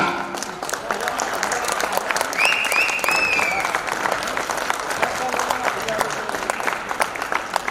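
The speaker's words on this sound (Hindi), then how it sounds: "सिर्फ 1 मिनट के लिए जोरदार तालियां हो जाएं मिस्टर हामिद कमाल।" A live stage show audience gives a strong, continuous round of applause for a performer at his golden jubilee show, dense clapping throughout with a brief whistle-like tone rising over the crowd partway through.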